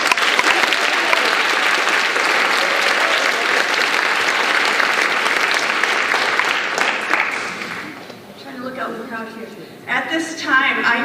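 Loud, dense audience applause fills a performing arts awards show hall, sustained and steady before thinning out near the end as a voice starts speaking over the fading claps.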